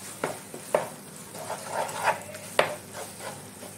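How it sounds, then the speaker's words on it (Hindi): A spoon stirs and roasts urad dal kachori filling in a pan, giving soft scraping strokes with a few sharper clinks against the metal, set over a faint low background hum. "साथ में स्वाद अनुसार नमक और इसे लगातार चलाते हुए भून लेना है।"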